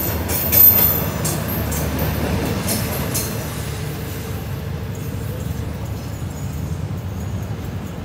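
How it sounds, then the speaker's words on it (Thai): The Thaksinarat special express train 32 enters the Photharam curve near Photharam station. A steady, close rumble of heavy rail wheels and cars rolls on throughout, with a louder thump near the start and faint high squealing overhead. "เข้าโค้งโพธารามนะครับสำหรับกระบวนด่วนพิเศษทักษิณารัตน์ที่32"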